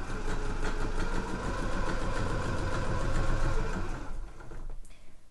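Sewing machine running steadily and close while stitching a zip onto a shoe bag made from the Nordik pattern by Jalie. The dense mechanical hum holds for about four seconds, then stops.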